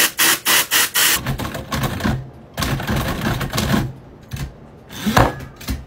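Manual typewriter keys clack in rapid bursts, loud and close, with brief pauses between runs of strikes and a few heavier thumps.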